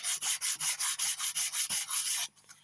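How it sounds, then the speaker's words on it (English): Heavy sandpaper rubs back and forth on the wooden furniture of an AK47 air rifle in about a dozen quick, even, rhythmic strokes, loud and close, before stopping. "So just to show anyone that's got a cybergun, it's quite heavy sandpaper"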